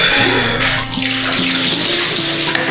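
Water poured over a body during a bath in freezing winter weather, the very cold water splashing down in continuous loud gushes for the whole stretch, with no talking.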